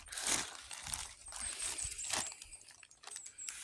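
Plastic crinkles and rustles up close in short irregular bursts, handled quietly.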